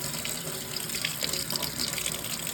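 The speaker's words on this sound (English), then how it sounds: "you want to run some cool water on it" Cool tap water runs steadily over drained black-eyed peas in a colander, making a continuous close splashing hiss with no pauses.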